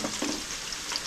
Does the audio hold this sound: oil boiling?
yes